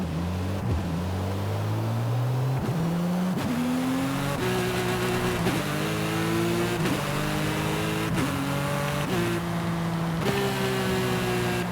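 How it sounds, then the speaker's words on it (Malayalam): Engine of a modified Porsche 911 GT3 RS in Forza Horizon 5, revving hard and changing through gears, its pitch stepping up and down repeatedly in a loud, continuous drone with no talk. "ഗിയർ ഡൗൺ ചെയ്തപ്പോൾ സൗണ്ട് കേട്ടാ"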